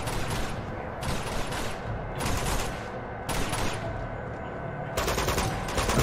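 Automatic gunfire in the video game Uncharted 2 rattles in several sustained bursts separated by brief gaps, loud and close, with a dense crackling texture throughout.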